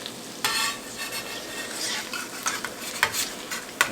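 An egg frying sunny side up in a home kitchen, a close bright sizzle with crackling spits and several sharp utensil clicks against the pan.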